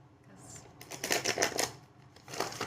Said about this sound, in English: I shuffle until Spirit tells me not to